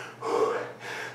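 A person gasps heavily for breath after an exhausting circuit workout of pulls, hyperextensions and star jumps, two long ragged close-up inhale-exhale cycles with no speech.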